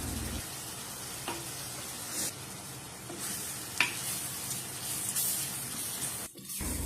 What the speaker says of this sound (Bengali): মাছগুলো দিয়ে দুই তিন মিনিটের মতো নেড়ে চেড়ে কষিয়ে নিলাম